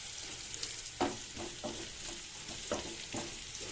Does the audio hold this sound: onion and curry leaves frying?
yes